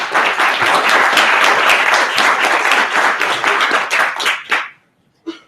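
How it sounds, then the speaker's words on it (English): Dense audience applause for a guest speaker at a technology talk, loud and steady for over four seconds before thinning to a few last claps and a brief knock. "give a round of applause for Matt"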